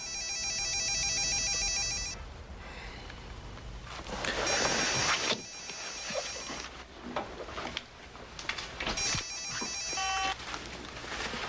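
An old-style telephone bell rings in repeated bursts with pauses between, loud and close, over some background noise.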